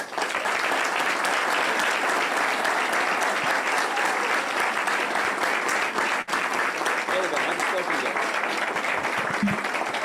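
A conference audience gives strong applause to welcome guest Michael Oren, continuous thick clapping from a large crowd lasting the whole stretch without a break.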